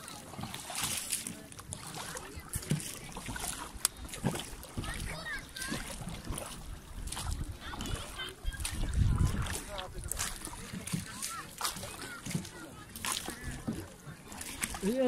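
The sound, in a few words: rowing a boat with an oar, water splashing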